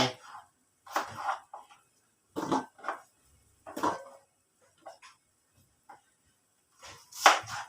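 A knife chops vegetables for chicken soup on a cutting board in irregular bursts of sharp knocks, close and clear, with quiet pauses between.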